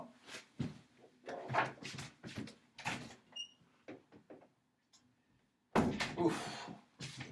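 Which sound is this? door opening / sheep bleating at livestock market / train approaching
door opening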